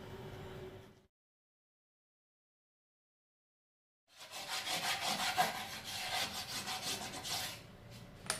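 A sanding sponge rubs back and forth over wood in a rapid, even scratching rhythm. It comes after a brief earlier burst and a few seconds of silence, then runs for about four seconds, close and moderately loud.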